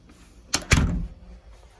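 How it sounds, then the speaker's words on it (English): A door is pulled open during a fire alarm system test: a sharp latch click followed quickly by a louder, close thump, then quiet, with no talking. "Alright, so open the door."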